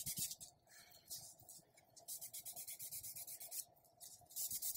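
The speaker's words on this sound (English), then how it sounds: "I'm going to take a 3M fine sanding sponge." A 1/8 brass rod is rubbed with a fine 3M sanding sponge, giving quick, rhythmic scratchy strokes in short bursts, faint and close, with no one talking.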